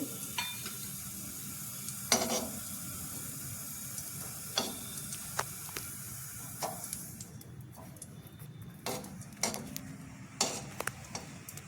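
Cashews and almonds roasting in hot ghee, with a faint steady sizzle broken by sharp clicks and taps of a spoon against the pan, no voices.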